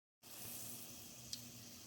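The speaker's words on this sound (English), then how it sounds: "here they are frying up" Steady, dense sizzling of hush puppies frying in hot oil, continuous and close, with a brief small pop near the end.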